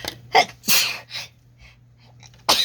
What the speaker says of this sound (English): I feel like I need to sneeze.